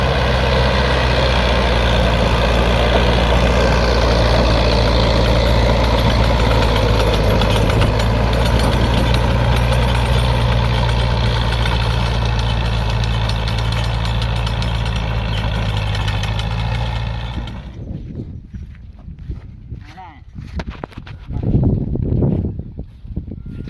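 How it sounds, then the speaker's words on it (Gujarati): A tractor engine driving a cutter in a farm field during sowing work. It runs as a loud, steady, low diesel drone with mechanical whine for about seventeen seconds, then cuts off, leaving scattered knocks and handling noises. "જો આપણે કટરા હાલે છે, ભૂરાભાઈ કટરા આપે છે."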